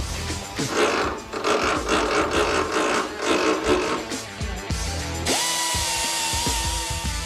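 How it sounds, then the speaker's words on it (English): A power tool grinds through a weld on an old wartime gun, with a loud, close, rough cutting roar that pulses with pressure. Partway through it shifts to a steadier high whine as the tool spins more freely. "I need to make sure I cut the weld, not the barrel."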